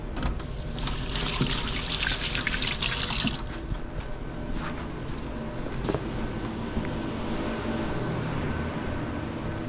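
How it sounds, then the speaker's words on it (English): Hands are rinsed under a running tap, a bright water rush for about three seconds that then drops to softer splashing, dripping and handling noises. "let's rinse the hands"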